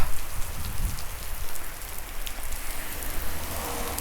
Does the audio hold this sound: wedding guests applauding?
no